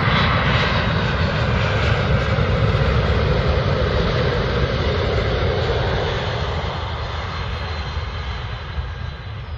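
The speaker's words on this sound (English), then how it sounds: "Mr. Webbo, he was at East Midlands Airport and he was filming this jumbo." Jumbo jet engines roar at East Midlands Airport, a loud, continuous broadband rumble and whine heard from nearby that holds steady, then eases slightly toward the end.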